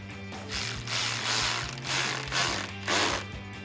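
Ratchet with an 8mm socket tightening a throttle body clamp on a 2019-2022 Silverado 5.3L cold air intake, close rapid clicking in several short bursts.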